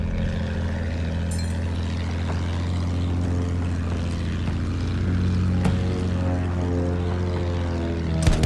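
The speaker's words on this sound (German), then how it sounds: "Feindliches Flugzeug gesichtet!" An enemy propeller aircraft drones overhead in the World War I shooter Battlefield 1 over Zeebrugge, a loud continuous engine roar with steady harmonic tones and occasional sharp impacts, and no speech.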